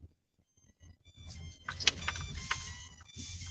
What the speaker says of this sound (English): Let me tackle this very heavy traffic